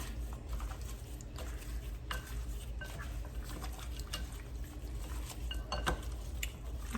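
A spoon stirs red beans with Goya seasoning in a pot on an outdoor propane burner, giving faint scraping, occasional metallic clinks and soft wet sloshing over a low steady burner hum.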